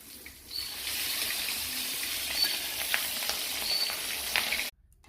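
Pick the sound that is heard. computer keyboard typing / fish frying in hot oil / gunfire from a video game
fish frying in hot oil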